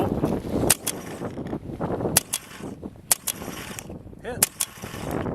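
A Stella closed-bolt paintball gun cycles and fires in several sharp, separated pops with mechanical clicks between them, heard at close range amid faint background murmuring.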